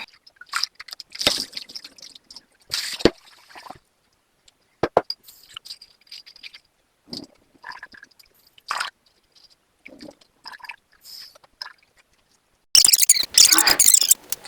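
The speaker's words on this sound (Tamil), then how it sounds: "ரெண்டு மூன்று தண்ணியில நாங்கள் இதை கழுவி ஊற வச்சு கொள்ளுவோம்" Intermittent wet swishing and sloshing as rice and fenugreek seeds are rubbed and rinsed in water, with short pauses, ending in a louder burst of splashing.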